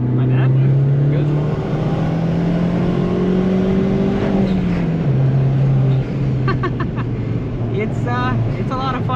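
A 2015 Fiat Abarth 500 with a manual gearbox being driven, its engine droning loud and close, rising in pitch and then dropping with a gear change, while someone talks over it.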